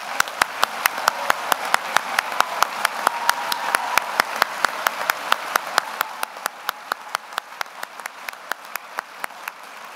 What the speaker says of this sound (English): Please join me in another round of applause for our senior award winners.